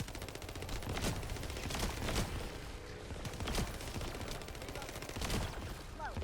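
Rapid gunfire and rocket blasts from a shooter game, The First Descendant, with sustained automatic bursts and periodic heavier explosive thumps, loud and continuous with a voice talking over them.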